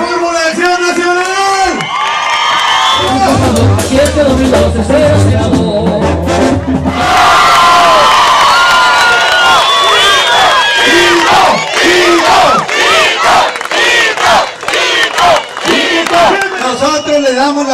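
A large campaign-rally crowd cheers, whoops and shouts loudly and continuously, with bursts of clapping mixed into the roar and an amplified voice calling out over the noise.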